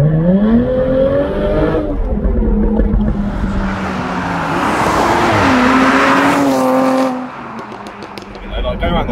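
Jaguar F-Type 400 Sport engine and exhaust while driving, loud and close, with revs climbing, dropping and climbing again through gear changes and a rasping exhaust note.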